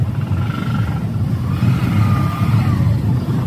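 Midday street traffic in Divisoria, Manila, on a busy Saturday: a steady low rumble of car and truck engines nearby, with faint tonal whines and no clear talk.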